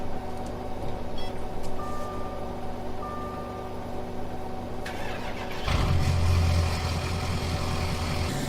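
A truck engine in Farming Simulator 17 cranks and fires up, following a quieter idle-like hum with small beeps, then a louder steady rumble as the engine runs.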